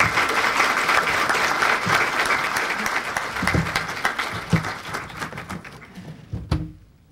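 A lecture-hall audience applauds to welcome a speaker at a talk on ethics and healthcare, a dense, steady wash of clapping that thins and tapers toward the end with a few last scattered claps.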